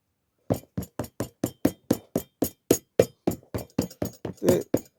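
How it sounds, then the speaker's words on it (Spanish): Steady hammer blows on a glued shoe sole, about sixteen sharp metallic strikes in a fairly even rhythm, close and loud, with no talking. "Luego que tengan todo pegado, hay que martillar. Entonces martillamos."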